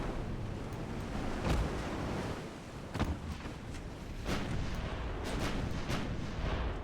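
Naval gunfire from heavy cruisers attacking an enemy convoy in the video game Ultimate Admiral Dreadnoughts: repeated booming shots over a dense, continuous rumble of battle, with sharper blasts standing out now and then.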